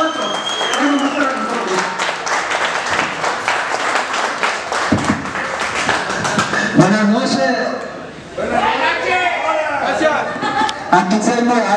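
Crowd applause fills a lucha libre wrestling arena, Arena Tonaltecas, loud and sustained with cheering and chatter mixed in, briefly dipping before swelling again as voices carry through.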